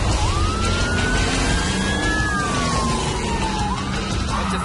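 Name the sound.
stunt car accelerating to duplicate a U-turn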